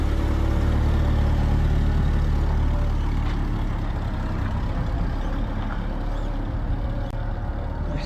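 A rare International Scout 800 with a 4-cylinder engine and 4-speed runs under its own power, a loud, steady, close engine drone with a rough low rumble and no voices.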